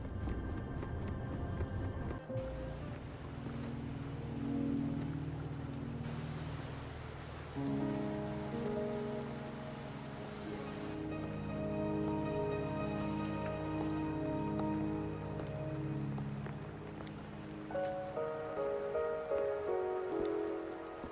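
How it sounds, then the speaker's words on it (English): Rain falling in the game Wuthering Waves, a steady patter that runs beneath sustained musical tones over the whole stretch. "Don't worry, the rain won't last much longer."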